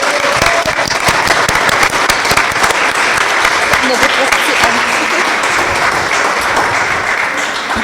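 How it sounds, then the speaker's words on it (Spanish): Loud, continuous applause from an audience honoring the panelists at a human-rights study presentation on indigenous persons with disabilities, a dense wash of clapping filling the whole stretch with some voices mixed in. "les pido de favor nuevamente un fuerte aplauso para nuestras panelistas"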